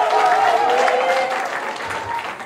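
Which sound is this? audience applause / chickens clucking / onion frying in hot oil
audience applause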